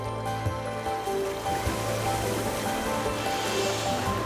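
River in Alaska flowing after the spring melt; a continuous moderate rush of moving water with a steady low hum beneath, no voices heard.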